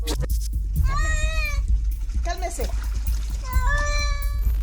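A cat cries out in drawn, voice-like meows while being bathed, with several long wavering calls separated by splashing and handling noises.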